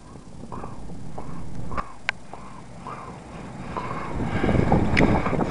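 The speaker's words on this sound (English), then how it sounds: "Now I can feel the wind and the snow." Wind roars and gusts steadily outdoors in a snowstorm, building louder toward the end, with a few faint thuds and rustles in the mix.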